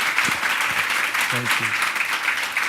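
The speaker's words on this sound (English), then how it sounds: "Round of applause for this guy right here." An audience breaks into steady, dense applause that continues throughout, with a brief spoken thanks heard over the clapping.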